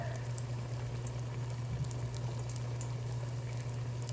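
Battered fish pieces frying in hot oil, a steady, fairly quiet bubbling sizzle with a constant low hum running underneath, holding even throughout with no talking.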